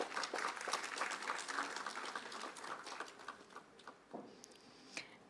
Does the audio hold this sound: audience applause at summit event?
yes